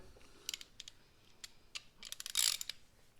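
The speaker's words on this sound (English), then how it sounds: "you could just use a 18mm socket with a ratchet on it" Ratchet wrench with an 18mm socket turning a bolt while a Daystar bull bar goes onto a Jeep Renegade: a few quick bursts of light metallic clicking, then a denser run of clicks near the end. The clicks are faint and close, with no talking.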